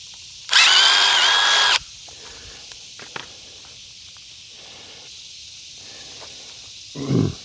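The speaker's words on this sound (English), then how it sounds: "Drill out the hole for the 17 here." A power drill bores a hole for a homemade vertical antenna in a single loud whine of about a second, followed by quiet handling clicks and a brief rustle at the end.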